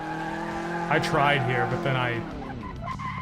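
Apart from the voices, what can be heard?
tire squeal while drifting in a sim racing video game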